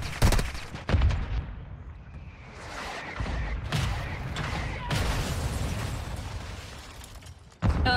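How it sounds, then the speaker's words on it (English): Gunfire and heavy explosions from an airstrike rumble through a shooter video game, loud bursts and booming blasts layered over continuous battle noise, with a sharp impact near the end. "Airstrike on you."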